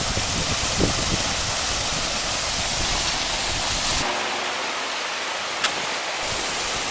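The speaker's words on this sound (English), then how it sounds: "we kept hearing this sound, and it's a waterfall" Steady broadband rush of a waterfall water feature at Balfour Golf Course in British Columbia, continuous and fairly close, with the low rumble thinning partway through and a brief faint click near the end.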